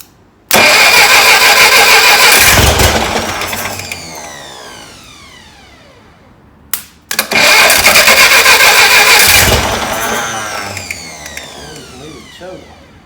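A Massey Ferguson TO35 tractor engine under restoration, with a suspected internal engine noise, cranks and catches twice. Each start bursts into a loud, close run that slowly fades, with a brief pause between the two starts.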